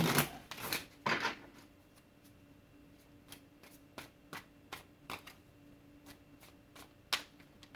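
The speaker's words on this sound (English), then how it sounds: "One more shuffle." A deck of tarot cards is riffled and shuffled up close, a few dense bursts followed by a run of crisp, irregular snaps and flicks in a quiet room.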